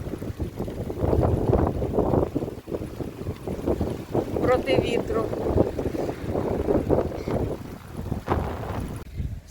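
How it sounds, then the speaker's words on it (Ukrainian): Strong wind buffets the microphone in a steady roar, with a voice talking over it throughout. "Ось такий от вітер у нас. Хитає, хитає все."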